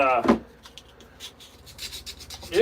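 Hand sanding of a spalted maple wood carving, short close rubbing and rasping strokes, preceded by a brief voice at the start.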